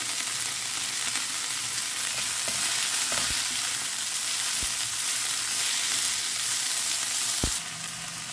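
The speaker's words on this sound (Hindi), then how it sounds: "धनिया को भी हल्का सा फ्राई कर लेते हैं।" Coriander frying briefly in a hot pan gives a steady, dense sizzle throughout, with a few faint clicks of stirring and no voices.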